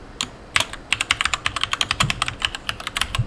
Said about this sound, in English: you hit enter after typing the password